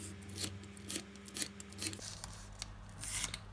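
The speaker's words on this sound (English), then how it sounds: "I'm going to cut, which again you can do with scissors, some slits in the sides" Scissors snip slits into the sides of a paper piece for glue tabs, several short crisp cuts in a steady rhythm over a constant low hum, close and fairly quiet.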